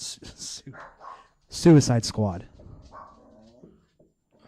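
A few people mimic dogs barking with their voices, a burst of short woofs and yelps in a quick cluster, then trailing voices and quieter yips.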